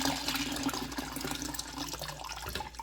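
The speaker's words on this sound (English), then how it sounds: "Pour the rest of it in here." Basil iced tea pouring steadily into a container, a continuous splashing liquid stream that stays fairly even throughout, with no talk.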